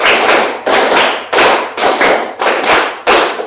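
A classroom of students claps in unison in counted patterns during a maths lesson, loud close group claps repeating in a steady rhythmic sequence of about seven strokes with brief pauses between them.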